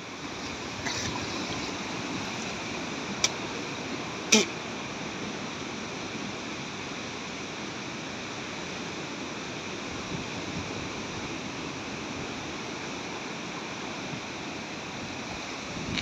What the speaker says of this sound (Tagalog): Napakalalaki ng alon dito.